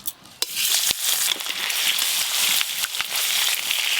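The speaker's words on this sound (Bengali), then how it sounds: "তাড়াতাড়ি মাছ ভাজা হয়ে যাবে" Salted, turmeric-rubbed rupchand (pomfret) fish frying in hot oil, giving a continuous close sizzle with crackles and a few sharp clicks and pops.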